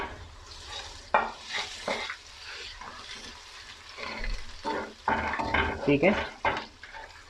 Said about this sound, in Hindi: मैं इसमें जो है अदरक लहसुन की पेस्ट डालूंगा।